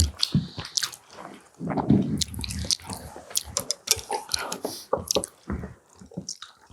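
Close, wet chewing and squishing from a family meal of Korean braised spicy chicken as a leg is torn off and eaten, in irregular smacking bursts mixed with faint murmurs.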